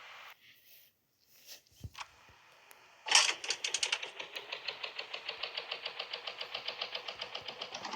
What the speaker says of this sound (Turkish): Motorun sesi çok fazla çünkü.